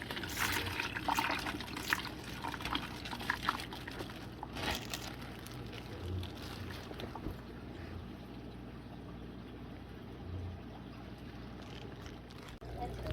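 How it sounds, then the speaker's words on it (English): Dirty water from a fish bag is dumped through a small aquarium net, a steady low splashing and trickling that carries on for many seconds without pause. "I'm going to dump this bag through my net so none of this nasty water gets into my tank"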